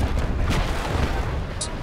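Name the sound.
ship cannon fire in video game Naval Action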